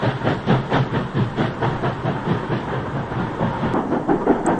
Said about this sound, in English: as Britannia's 7031 Byron hurries north on a parcels train